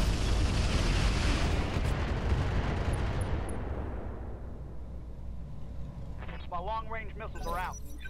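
Incendiary weapons firing in Roguetech, a dense roaring barrage of bursts and booms that slowly fades into a rumbling tail, with a voice speaking briefly near the end.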